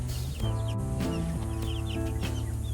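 A mother hen clucks near her baby chicks in a brooder, giving a short series of low, throaty, repeated clucks, close and fairly loud, with no talking.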